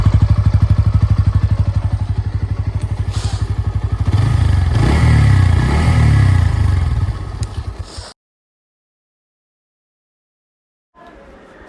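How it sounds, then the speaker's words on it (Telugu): A Bajaj Pulsar NS160 motorcycle revs loudly up close, with a fast pulsing idle that climbs into throaty revs. It cuts off abruptly into silence before a faint return near the end. "ఈ బైక్ స్లోగా రైడ్ చేయడానికి కాదు బ్రో, రేవ్ చేసే రియల్ పవర్ తెలుస్తుంది."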